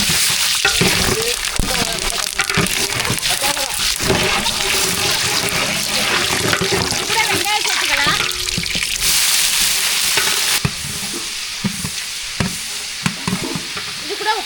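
Whole spices hit hot oil for mutton biryani, producing a loud, continuous sizzle and crackle with stirring and scraping throughout.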